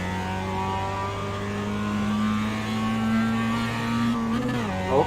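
A race car engine in a racing sim at Summit Point climbs steadily in pitch after an upshift to third, a sustained close droning rev that rises smoothly, then dips sharply as the next gear change comes.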